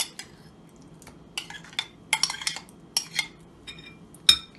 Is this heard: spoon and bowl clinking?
yes